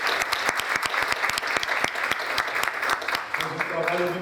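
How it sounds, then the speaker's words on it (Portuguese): A seated audience at a talk claps for a retired former rector, steady dense applause lasting the whole stretch with sharp individual claps standing out, and a voice briefly audible near the end. "Reitor, um aplauso para o Bulhões."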